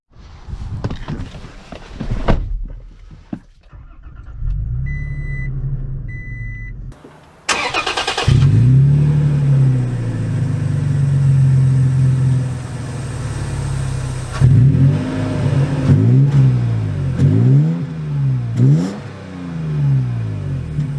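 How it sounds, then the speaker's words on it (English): A 2022 Toyota Tacoma TRD Pro fires up after a few footsteps and door sounds. The engine settles into a loud, close idle, then gives a series of rising and falling revs as the truck moves off. "let's take it out and drive it now."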